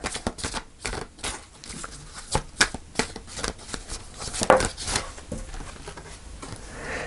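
Tarot cards being shuffled at close range, with a rapid run of soft riffling flutters and slaps in uneven bursts for several seconds, and no talking.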